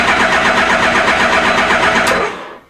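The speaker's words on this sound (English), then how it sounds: "so we can sort of proceed with the attempted start" Suzuki GSX-1300R Hayabusa motorcycle engine cranking on its starter during a start attempt, a loud steady churning whir held for over two seconds before cutting off, with no voices over it.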